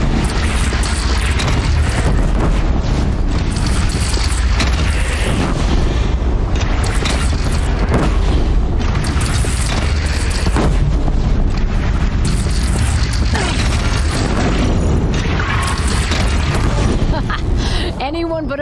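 Cannon fire booms repeatedly through a loud battle scene in the video game Horizon Zero Dawn, with dense rumbling blasts and clatter continuing under raised voices.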